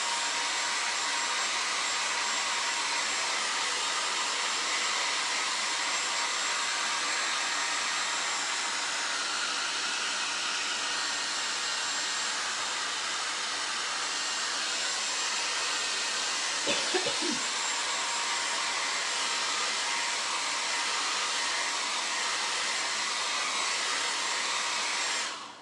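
A heat tool blows steadily while drying chalk paste on a pillow, a loud continuous whooshing drone held close for the whole stretch, with a brief faint knock midway and no talking.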